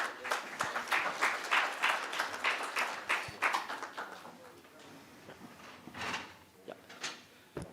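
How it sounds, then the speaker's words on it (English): Workshop audience applause, scattered individual claps in an uneven rhythm that thin out and trail off, with a voice speaking partway through. "A round of applause, guys."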